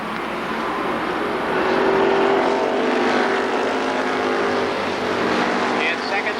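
Super late model race cars lapping at Columbus Motor Speedway, a loud continuous engine roar swelling and easing as cars pass, with an announcer talking over it.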